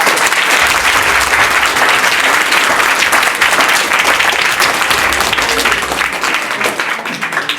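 Loud, sustained applause from an audience welcoming a guest at a school event, many hands clapping in a thick continuous roar that tapers a little toward the close.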